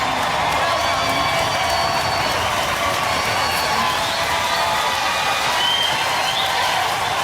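A studio audience at the Robot Wars Series 4 Grand Final gives dense, sustained applause with some cheering and whoops, loud and unbroken for the whole stretch.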